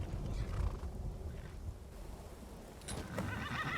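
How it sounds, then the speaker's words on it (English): A demonic horse in a video game snorts and whinnies with a rough, breathy cry, and hooves clop near the start, moderately loud against a dark ambient background with no speech. "Outside the sanctum, a demonic horse appeared before him."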